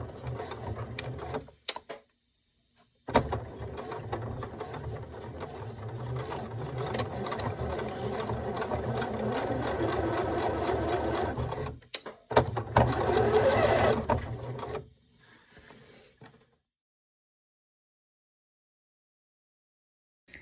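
A sewing machine stitches seams on a fabric bag strap in long continuous runs, a steady whirring hum broken by short pauses and ending in a faint tail.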